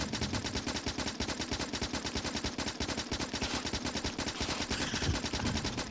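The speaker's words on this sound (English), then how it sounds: "This submachine gun is so weak." Rapid, continuous automatic fire from a submachine gun in the video game Factorio, a dense run of close, loud shots that keeps going without pause for the whole stretch.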